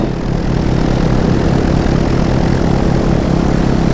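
A paramotor engine roars during takeoff. The loud propeller drone is close and continuous throughout, with no talking.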